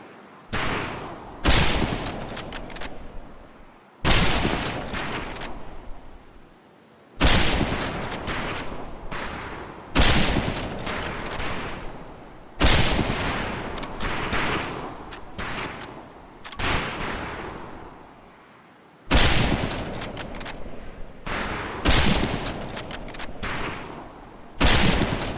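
Rifle volleys crack out at a shooting range in the video game Medal of Honor Pacific Assault: loud, close bursts of overlapping gunfire recurring every few seconds, with brief quiet gaps between them.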